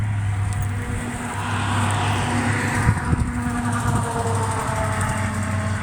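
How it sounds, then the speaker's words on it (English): A vehicle's engine idles and rumbles steadily nearby while backing a trailer underneath a prefab tiny-home cabin outdoors, with a low droning tone and a few clunks midway. "he's gonna bring the trailer from over there and back it underneath the cabin here"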